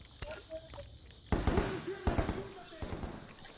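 Gunfire in The Last of Us multiplayer: several sharp bangs and thumps at irregular intervals, mixed with faint game ambience and quiet player voices.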